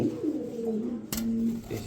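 A Pakistani Shirazi pigeon cooing close by in a low, steady murmur, cut by a brief sharp knock midway.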